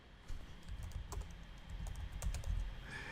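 Keystrokes on a computer keyboard as a command is typed into a terminal, a run of close, irregular clicks and taps with no talking.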